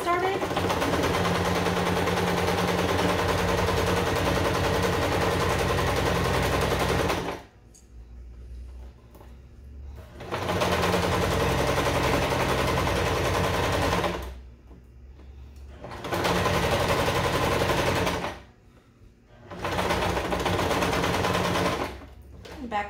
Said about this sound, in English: I'm going to sew all the way around